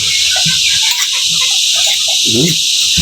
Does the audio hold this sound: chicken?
yes